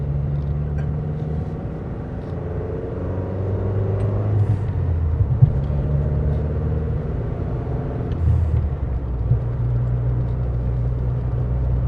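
A classic car driving along winding country roads in North Wales, a continuous low engine rumble and road drone from inside the cabin with no talking.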